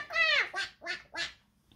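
A young child imitates a duck, voicing four quick, nasal quacks in a row, the first longest and loudest, close to the listener in a quiet indoor room.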